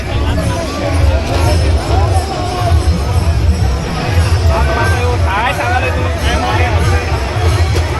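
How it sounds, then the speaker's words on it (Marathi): Dense crowd of pilgrims packed together at the Mauli palkhi procession in Alandi, a steady loud murmur of many voices with overlapping chatter and shuffling throughout, near and continuous. "भाई फुल गर्दी करताय लोक दर्शन घेण्यासाठी."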